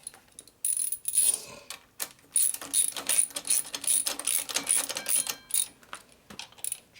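A ratchet turning on a Harley shovelhead stroker motor during a bike build, with close, quick metallic clicking in short bursts separated by pauses.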